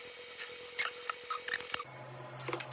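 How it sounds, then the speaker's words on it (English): Plastic bag around a Micsig STO1004 tablet oscilloscope being opened, with close crinkling, snipping and rustling clicks in short bursts, then a low hum near the end. "Open the plastic bag."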